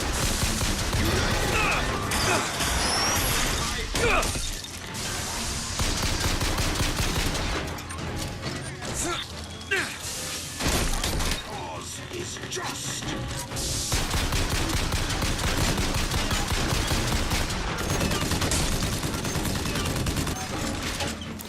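Sustained gunfire from Bioshock Infinite, with dense bursts of shots and crashes that run almost without pause and stay loud and close throughout.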